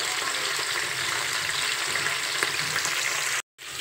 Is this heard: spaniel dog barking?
no